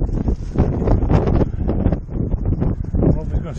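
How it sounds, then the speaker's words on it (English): Strong wind blows outdoors at a backyard grill, buffeting the microphone with a steady low rumble and gusty roar while someone talks over it. "I don't know if it's going to stay on there with all that wind blowing."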